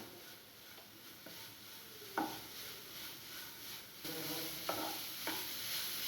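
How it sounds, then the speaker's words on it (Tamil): Grated coconut being stirred into beetroot poriyal in a hot pan, a soft steady sizzle with occasional scraping strokes and light taps of the spoon against the pan. "தேங்காய் போட்டு 2 ஓட்டு ஓட்டி நம்ம அடுப்பை ஆஃப் பண்ணிடலாம்."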